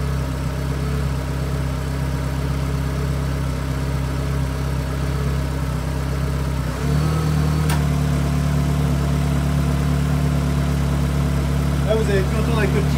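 A Peugeot car engine idles with the air conditioning off, giving a steady, close, low hum that shifts slightly in tone partway through and runs without a break.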